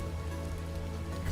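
Steady rain falls in the video game Vintage Story, a dense continuous hiss with faint pattering over low ambient hum, even and unbroken throughout.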